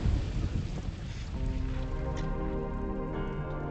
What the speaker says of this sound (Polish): burza się zaczęła